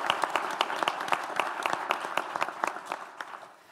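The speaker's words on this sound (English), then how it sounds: "Please, big applause." Audience applause for a panel at an aviation safety conference session on vertiports, with individual sharp claps standing out over a steady bed of clapping that thins and fades toward the end.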